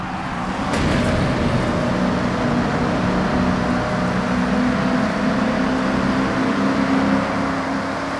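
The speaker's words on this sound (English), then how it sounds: "The acoustics of these long, rounded tunnels capture the reflected sound of anything inside and throw it right back at you" Car engine in Forza Horizon 6 booming steadily inside a long, rounded tunnel, a continuous loud reverberant drone with a low rumble throughout and no voices.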